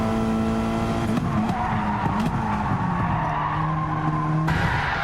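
Race cars at Laguna Seca in the video game Gran Turismo 7 corner into turn one with steady engine drone and continuous tire squeal, loud and sustained throughout without talk.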